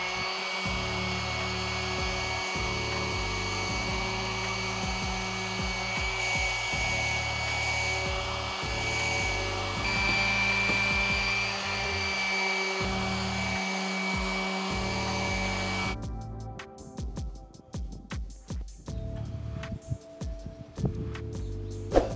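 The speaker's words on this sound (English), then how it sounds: "now I'm gonna use an orbital sander to be able to sand this all out" An orbital sander whirs steadily for about sixteen seconds while sanding wooden boards for a homemade squat rack, a close, loud, even motor drone that cuts off, followed by faint clunks and handling noises.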